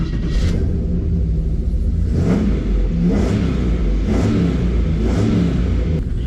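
A four-wheel drive vehicle's engine revs while driving, loud and close, surging in a steady rhythm about once a second over a constant rumble.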